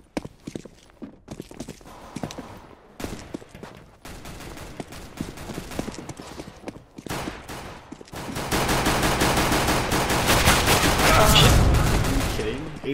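Counter-Strike: GO gunfire, starting as scattered sharp shots under team voice chat and swelling into a loud, dense burst of sustained automatic fire.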